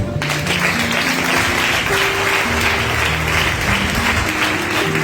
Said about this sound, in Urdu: ان کے تالیاں بجائیے